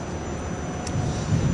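A Rafale fighter jet flying at the Dubai Air Show, a steady broadband engine roar that holds throughout and swells slightly toward the end, with no talk.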